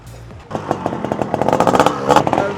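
A Yamaha RX135 motorcycle with an open exhaust, its two-stroke engine idling and then revving up into a loud, rasping, crackling roar heard close by.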